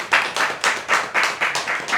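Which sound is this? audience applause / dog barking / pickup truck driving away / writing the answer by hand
audience applause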